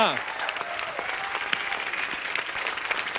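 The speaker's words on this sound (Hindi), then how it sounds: "जोरदार तालियां।" Loud studio-audience applause on The Kapil Sharma Show, a thick continuous wash of clapping with voices mixed in underneath.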